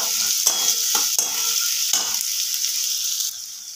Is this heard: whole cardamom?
yes